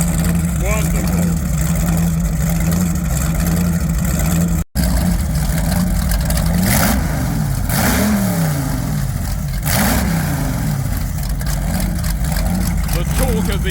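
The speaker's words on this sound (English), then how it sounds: "The torque of the engine kicking the hull over." A Class 1 offshore powerboat engine, near Cowes at the Cowes Torquay race, roars loudly and revs up and down with rising and falling pitch sweeps as the boat accelerates, continuous throughout, with a brief dropout partway.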